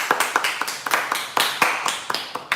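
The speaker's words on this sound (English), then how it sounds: "Round of applause for Lady Liberty." A small group claps in a round of applause, the sharp, uneven claps close and distinct rather than a dense crowd roar, with a slightly irregular rhythm throughout.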